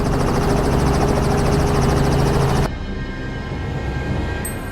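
A helicopter's engine and rotor during a wild boar hunt, a loud, close, steady roar with rapid rotor thumping that drops away sharply partway through, leaving a quieter whining hum.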